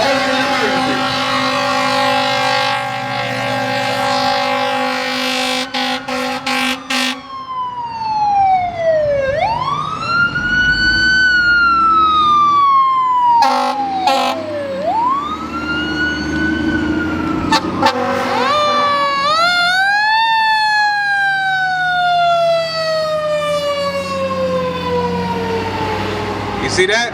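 Fire truck and ambulance sirens blare past at close range, their loud wails sweeping up and down in repeated long cycles over steady traffic noise.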